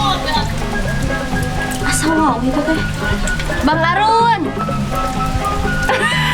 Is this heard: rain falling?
yes